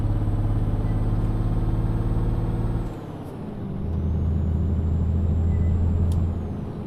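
A truck braking hard in Euro Truck Simulator 2, its steady engine drone dropping away with a sharp air brake hiss near the middle before the engine hum builds again, close and loud.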